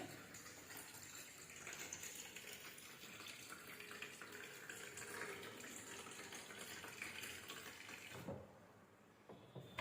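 Tap water runs steadily into a container at home, a continuous splashing rush that suddenly drops off near the end, leaving a quieter trickle.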